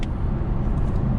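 Turbocharged engine of a Honda Accord Sport accelerating, heard from inside the car as a loud, steady low rumble with road noise and no talk.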